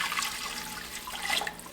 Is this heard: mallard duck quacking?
no